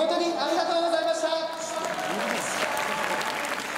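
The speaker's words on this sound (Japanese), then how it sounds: "皆様拍手でお送りください。" A stadium crowd applauds densely as players leave the closing ceremony of the Tokyo Yakult Swallows baseball fan appreciation day, with a tonal voice or music over the clapping at first.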